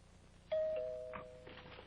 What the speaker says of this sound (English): There's the front doorbell.